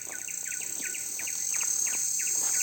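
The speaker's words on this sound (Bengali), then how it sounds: "এই দেখুন পাখিটার আওয়াজটা আরো জোরে শোনা যাচ্ছে, এই গাছটাতেই আছে।" A bird calls from a tree on a forest trail in Raimatang, repeating a short, rhythmic chirp about every quarter second over a steady, loud high insect drone.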